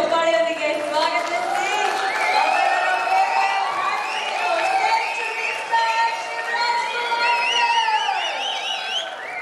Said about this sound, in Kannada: ದೊಡ್ಡ ಚಪ್ಪಾಳೆಯೊಂದಿಗೆ ಸ್ವಾಗತ